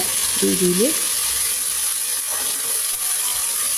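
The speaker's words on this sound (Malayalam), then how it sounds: "ഉള്ളി നന്നായിട്ട് മൂത്ത് നല്ല പോലെ ബ്രൗൺ കളർ ആവണം." Onions frying in a pan until brown for an Arabian pressure-cooker madhooth, a constant loud sizzling hiss with a brief squeaky scrape near the start and no talking.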